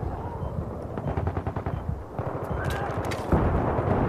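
Gunfire and grenade blasts in the video game Battlefield 3 crackle in dense, rapid bursts, with sharp reports and a heavier thumping explosion near the end, loud and close throughout.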